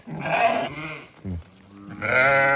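A sheep in Chiroqchi bleats loudly and close by, two wavering calls separated by a brief pause.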